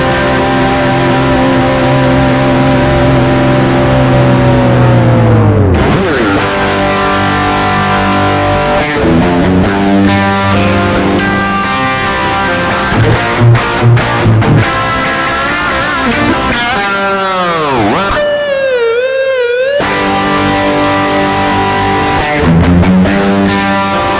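Electric guitar through a Steel Panther Pussy Melter pedal and Yamaha THR-10 with a shimmering chorus and reverb wash, sustained chords and sliding notes ringing out steadily, with a wobbling pitch bend near the end.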